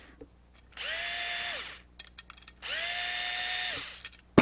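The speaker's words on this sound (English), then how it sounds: "Okay, now I'm going to unscrew these screws." A power drill or driver whirs in two bursts of about a second each, backing out screws from an electrical box while an extension cord is assembled. Each burst spins up, holds a steady whine nearby and winds down, with small handling clicks between.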